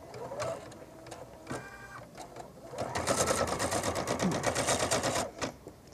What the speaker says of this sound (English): the machine will continue to stitch until the color is complete